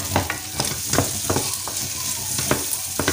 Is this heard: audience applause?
no